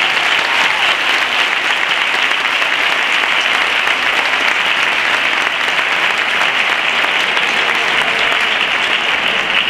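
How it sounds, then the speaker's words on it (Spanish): An audience at a Christmas concert by a music band gives sustained, loud, even applause that fills the whole stretch without a break. "un fuerte aplauso para el empezamiento de la banda"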